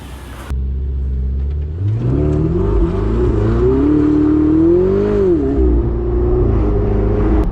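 A Ferrari 488 Spider on fresh new tyres rumbles nearby, its engine note rising and falling through a loud rev before settling to a steady drone.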